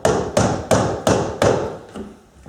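Five loud, evenly spaced knocks on a wooden door at the south entry, close and sharp, followed by a quieter tail with no voices.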